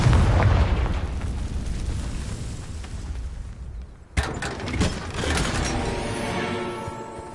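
Blasting-curse explosions from the Hogwarts Legacy video game: a loud booming burst fades out, then after a brief drop a second sharp blast hits with rumbling, crackling debris that lingers at full strength.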